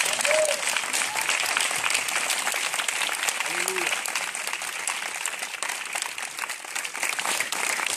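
A church congregation applauds and cheers for Jesus in sustained, dense clapping that fills the room, with a voice rising over the crowd now and then.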